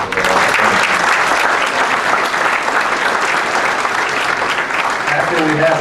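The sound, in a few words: audience applause at an ordination reception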